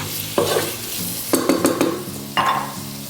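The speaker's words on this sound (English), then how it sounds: "Go ahead and mix everything together, and I have my temperature on medium high heat" A spoon stirring meat sauce in a pan over medium-high heat, with soft sizzling underneath and several distinct scraping strokes close by.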